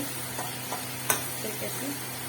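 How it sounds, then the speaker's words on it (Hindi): Tomatoes seasoned with salt and turmeric frying in a pan, a soft steady sizzle with a few scraping stirs and one sharp clink of the spoon against the pan. "अब टमाटर को पकने देंगे"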